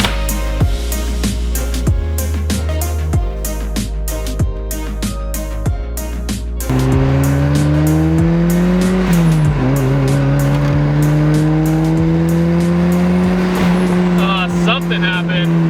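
A turbocharged project car engine holds a long, loud pull: the drone climbs steadily in pitch after a gear change, close and dominant, with a few sharp clicks early on.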